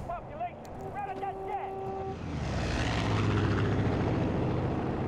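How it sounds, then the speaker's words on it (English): A helicopter in the video game Far Cry 5 comes in with a rising, steady engine and rotor drone that builds to a loud roar, after game sounds and voices at the start. "Take out that chopper!"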